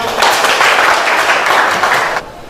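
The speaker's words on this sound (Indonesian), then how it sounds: "Tepuk tangan dulu." A classroom of pupils claps together in a brisk burst of applause lasting about two seconds, loud and close, then cuts off abruptly into quiet room tone.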